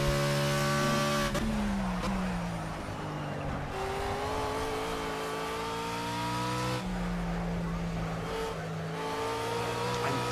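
The BMW Z4 GT3 race car engine in Project CARS roars and revs through gear changes, a loud sustained drone that drops at each upshift before climbing again, heard alone.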